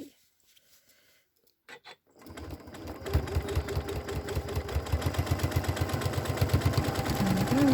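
A sewing machine back-tacking a stocking seam. A few soft clicks and handling sounds give way to the motor starting, then a close, rapid, even stitching rhythm that grows steadily louder and faster.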